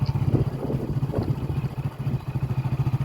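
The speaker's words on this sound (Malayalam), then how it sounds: "നമ്മൾ ബൈക്കിലാണ് പോകുന്നത്" Motorcycle engine humming steadily at a medium pitch while riding along a completed Thalassery–Mahe bypass road, the low rhythmic drone continuous and close throughout.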